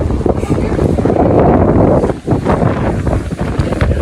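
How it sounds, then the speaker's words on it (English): Strong wind on a downtown Minneapolis street buffets the microphone in a loud, continuous roar that dips briefly midway. "It is windy, but it's beautiful."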